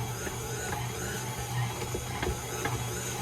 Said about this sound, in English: So I'll be able to knead it properly in this mixer.